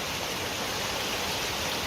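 Steady broadband hiss of rain falling outdoors in Parque Nacional do Alto Cariri, Bahia, an even wash with no distinct drops, continuous and fairly soft, with no voices.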